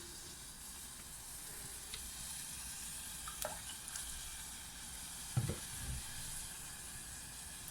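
Coconut cream simmers in a pan for coconut coffee, giving a steady soft bubbling sizzle and hiss throughout, with a couple of brief clinks and stirring sounds near the end.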